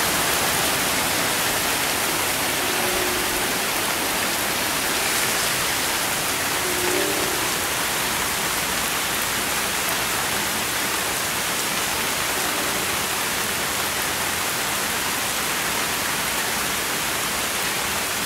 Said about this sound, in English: Just surprising, because it's been really heavy rain.